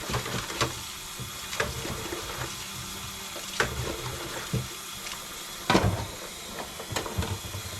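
Dishes are washed by hand with a dish wand, homemade bar soap and running water in a small trailer kitchen. Water splashes steadily, broken by scattered clinks and knocks of dishware.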